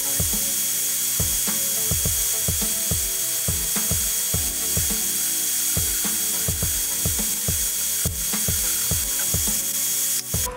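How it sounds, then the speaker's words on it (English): An electric nail file buffs the top coat off press-on nails with a constant high whine. Quick, rhythmic grinding strokes recur steadily throughout at close range, with no one speaking. "I'm gonna go ahead and just buff off the top of all these nails"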